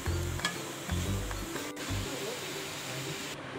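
Chicken spring roll filling cooking in a pan over a high flame, a sizzle with stirring scrapes and a faint clink, under soft talk.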